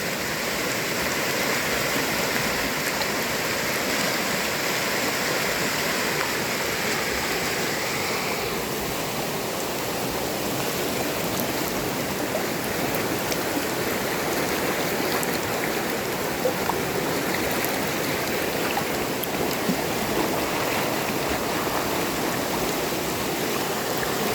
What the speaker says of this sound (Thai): น้ำป่าไหลแรงมากครับ ข้ามตรงนี้ไม่ได้ครับ